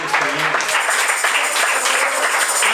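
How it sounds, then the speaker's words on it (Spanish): A church congregation bursts into loud, dense applause, a steady wash of many hands clapping together with faint voices mixed in. "Dale un aplauso fuerte al Rey de Reyes y Señor"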